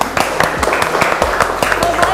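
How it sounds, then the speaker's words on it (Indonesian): An audience at an Indonesian cooking show breaks into applause, irregular sharp claps spread across the short span, fairly loud, with talk mixed in. "Tepuk tangan."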